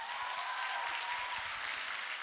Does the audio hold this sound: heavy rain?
no